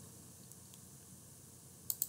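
Two quick, crisp computer mouse clicks close together near the end, faint and close by, with a quiet near-silent room around them.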